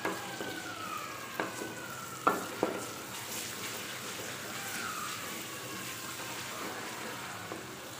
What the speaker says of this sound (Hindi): लहसुन और अदरक जो है वो फ्राई हो गया